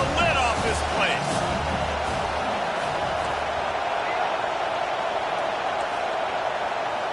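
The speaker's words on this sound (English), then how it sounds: "this crowd is tearing the lid off this place" Continuous stadium crowd roar in the College Football 25 video game, loud and dense, with a commentator speaking over the first half before the roar carries on alone.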